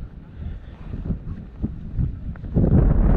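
Gusty wind buffets the microphone outdoors on the Dune du Pilat in Gironde, rumbling low and steady, then growing louder and rougher toward the end.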